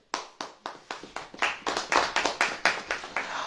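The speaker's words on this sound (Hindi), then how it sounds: "ताली बजाइए" A congregation clapping hands in rhythmic unison, sharp repeated claps at a steady beat that grow slightly louder and fuller as more people join in, with no speech over them.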